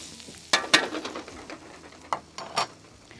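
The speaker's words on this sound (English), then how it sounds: "because the rice is starting to fry up there" Rice frying in a pan for paella gives a loud, steady sizzle, broken by several sharp scrapes and clanks of a utensil stirring against the pan.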